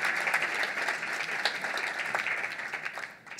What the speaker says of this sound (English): Please join me in a round of applause for our amazing sponsors and our fabulous teams.